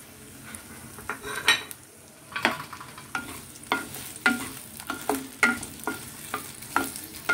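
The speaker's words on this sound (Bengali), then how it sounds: "ওই মাখনের মধ্যেই লাল, হলুদ আর সবুজ ক্যাপসিকামগুলো আমি একটু হালকা ফ্রাই করে নেব" Red, yellow and green capsicums frying lightly in butter, with a soft steady sizzle under repeated stirring and utensil scrapes against the pan, close and moderately loud, no voices.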